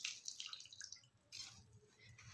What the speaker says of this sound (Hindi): हाथ से ही निचोड़ने से काफ़ी सारा पानी निकल जाएगा।